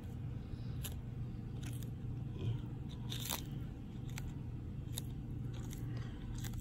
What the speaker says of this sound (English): Munching away.